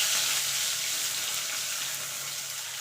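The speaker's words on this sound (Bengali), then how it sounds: "আলুটাকে একটু লাল লাল করে ভেজে নেব।" Potatoes fry in hot oil, giving a steady, even sizzle that holds throughout at close range with no talk.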